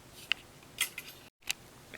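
Red gimp lacing strands snipped close by during a lanyard-making craft, giving three or four short, crisp scissor clicks spaced apart against a quiet background, with no talking.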